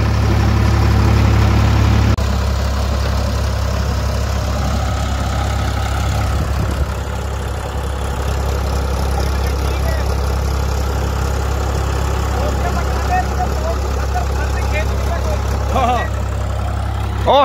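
Ford 3600 tractor engine running with a rotavator in a field, a steady low chugging rumble that continues throughout at close range, with talk over it in places.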